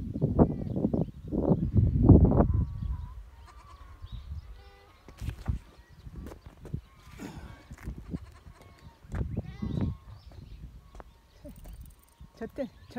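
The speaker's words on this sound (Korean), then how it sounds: "우리 염소들이 평화롭게 풀 뜯고 있네요." Goats bleat intermittently while grazing outdoors on a hillside pasture, several loud, near calls early on and softer ones later, mixed with a person talking and scattered rustling.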